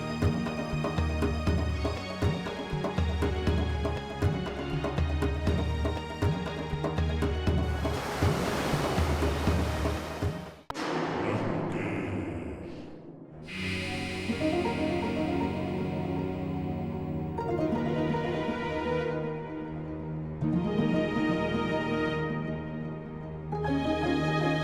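Loud, continuous ocean waves surge and crash across a wide sea, with roaring surf and a washing rush under layered dramatic music.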